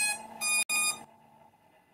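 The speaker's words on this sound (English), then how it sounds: "The drone should beep twice." Two quick electronic beeps sound close together, bright and tonal, then fade into a faint lingering hum, from a Holy Stone drone powering up and pairing with its remote.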